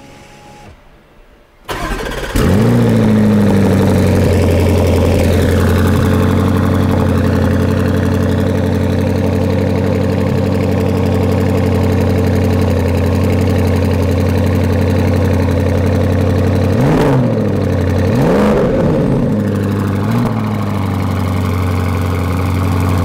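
A 2021 Porsche Cayenne GTS Coupé engine cranks and fires after a brief quiet moment, flaring loudly, then settles into a steady, deep warm-up idle with a couple of small revs near the end.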